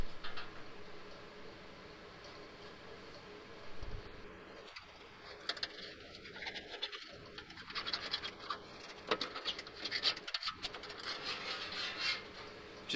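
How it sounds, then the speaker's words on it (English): A scribe with a right-angle tip scratches along the underside of a belly pan panel on a mini Model S build. Sparse, quiet scraping strokes come and go over a low room hum. "Just using a scribe with a right angle on the end to reach up and scribe the bottom side of this panel here."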